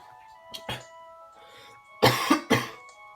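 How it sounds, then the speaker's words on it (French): Close coughing comes in two clusters, a pair of short coughs first, then three harsher, louder ones a moment later, over a quiet background hum. "désolé si je tousse souvent là"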